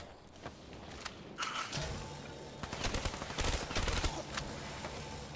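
Rapid bursts of gunfire aimed at zombies in a first-person shooter video game, volleys of shots building and clustering toward the middle of the stretch, fairly loud against a noisy background of game sounds.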